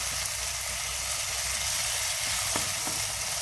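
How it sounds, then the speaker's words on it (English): Eggplant and egg stir-fry in a wok, a close, constant sizzling hiss with a couple of faint spatula scrapes, no voices over it. "we're gonna stir fry until the talong is almost mushy"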